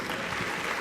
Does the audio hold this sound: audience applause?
yes